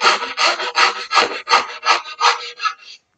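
Veritas backsaw cutting wood, about nine rhythmic rasping strokes in quick succession, close and loud, with no talking.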